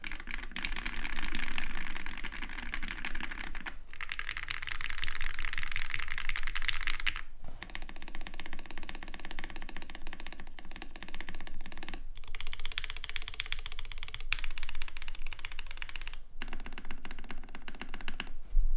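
A Mode 80 mechanical keyboard is typed on steadily, giving dense, close, continuous clacking that shifts tone between stretches of keys for nearly twenty seconds, with no voice.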